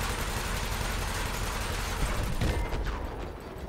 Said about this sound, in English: And then we can shoot.